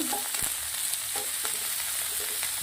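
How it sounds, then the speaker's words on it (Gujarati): Chopped tomatoes and fresh coriander sauté in oil in a pan for a pepper paneer masala, giving a soft, steady sizzle with occasional faint stirring clicks and no talking. "ટામેટા નાખ્યા પછી આપણે એક વાટકી ભરી લીલા ધાણા નાખું છું"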